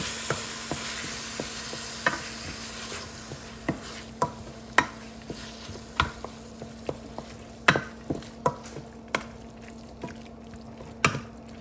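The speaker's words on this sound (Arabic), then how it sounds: "غادي نزيد مطيشه، صافي نحركو هادشي مزيان" Tomato being stirred into a Moroccan stew in a pot, Rabat style: a steady run of sharp spoon scrapes and clicks about once a second, close up over a faint simmering hiss.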